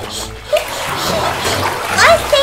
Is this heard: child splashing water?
yes